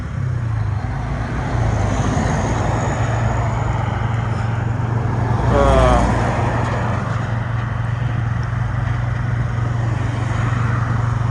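Suzuki Address V125 G scooter on a test ride, a steady close engine hum under heavy wind and road rumble, with a brief swelling whine midway as it accelerates.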